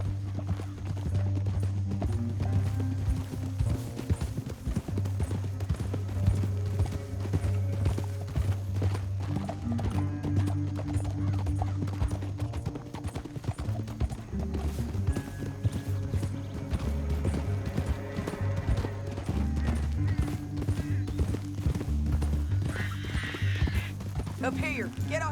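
Horses galloping in Red Dead Redemption 2, a fast continuous clip-clop of hooves over a steady musical score, with occasional snorts and character voices talking over the ride.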